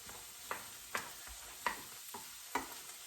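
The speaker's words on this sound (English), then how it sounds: "I just want to get them a little sauteed, soft" Vegetables softening in a pan over lower-than-medium heat give a quiet, steady sizzle, broken every half second or so by soft scrapes and clicks from stirring.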